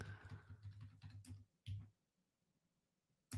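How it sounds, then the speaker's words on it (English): Keyboard typing while editing code in Neovim, a quick run of close, soft key clicks for about a second and a half, then a couple of isolated taps separated by near silence. "the real question is when I am typing"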